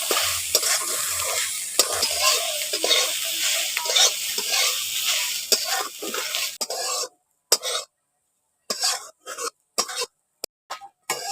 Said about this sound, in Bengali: এখন সয়াবিনটাকে একটু ভেজে নিচ্ছি